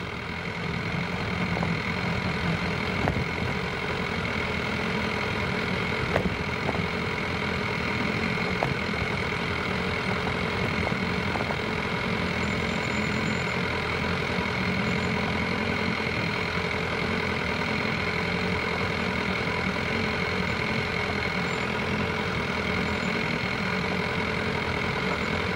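An off-road vehicle's engine runs steadily while crawling over rocks and stones on a rural Vermont trail, a continuous mid-pitched drone with faint bumps and rattles; no one speaks.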